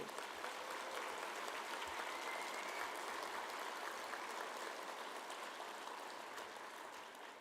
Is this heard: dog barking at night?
no